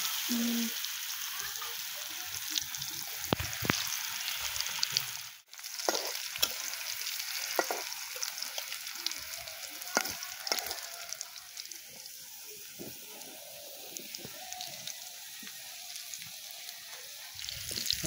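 Potatoes frying in a pan at an outdoor courtyard picnic, a steady close crackle and sizzle with stirring scrapes running throughout, one brief dropout midway.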